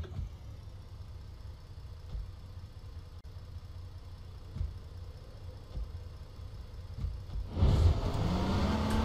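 Low, steady car engine drone from the online battle royale game H1Z1 King Of The Kill, idling and rolling along, then a sudden louder surge near the end as the vehicle revs or jolts.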